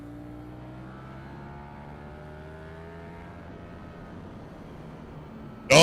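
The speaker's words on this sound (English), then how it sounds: "I'm going to give it hard throttle on entry of this turn." Motorcycle under hard throttle on entry to a turn, its engine note climbing and rising steadily as it accelerates, loud and close and heard on its own, ending in a sudden sharp burst.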